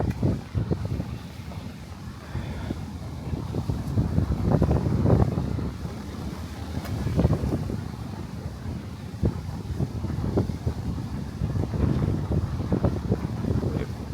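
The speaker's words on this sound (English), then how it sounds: "There's a lot of wind coming." Strong wind gusting along the South Brooklyn waterfront near the water, a steady broadband rush and rumble buffeting the microphone for the whole stretch, with no voices over it.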